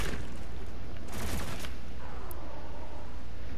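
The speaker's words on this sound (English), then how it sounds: "Combat shotgun" Combat shotgun blasts in the first-person shooter DOOM Eternal, a loud booming shot near the middle amid dense, continuous game noise and music, with other impacts scattered through.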